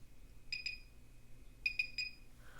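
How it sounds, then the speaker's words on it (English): Two short electronic timer beeps, a pause, then three more, crisp and moderately loud over a quiet low hum. "you would wait for the top of the beep"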